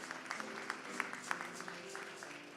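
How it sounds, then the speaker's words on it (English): Light, scattered clapping from a small gathering after a demonstration, a few distinct claps popping out over a faint murmur of background voices, quiet and somewhat distant. "give them a nice round of applause"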